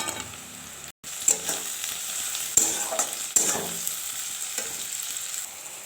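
Onions and tomatoes sizzle in an oil-filled pan for chicken kosha curry, a constant loud frying hiss broken by a few sharp scrapes of a spatula stirring, with no talking.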